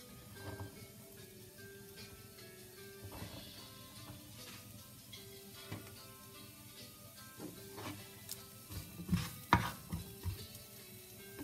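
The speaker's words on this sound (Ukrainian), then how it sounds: "Нарізану цибулю відправляємо в сковорідку обсмажуватись." Chopped onions sizzle in a hot pan with a steady crackle, broken by scraping stirs and clinks of a utensil, close and fairly quiet.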